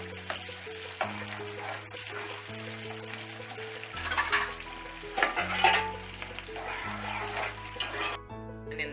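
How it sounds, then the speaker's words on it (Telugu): Sliced onions dropped into hot oil sizzle and crackle under steady background music, with a few louder bursts of frying mid-way. "ఆయిల్ వేడెక్కిందండి, దీంట్లో ఉల్లిగడ్డలు వేసుకోవాలి"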